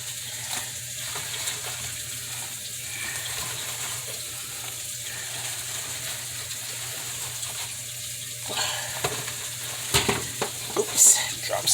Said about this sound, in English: I'm going to be adding my meatballs to the sweet and sour sauce.